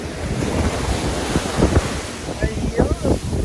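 Ocean waves breaking at Koura Beach in Japan, a broadband wash of surf with gusty wind buffeting the microphone and a few swells cresting louder near the end.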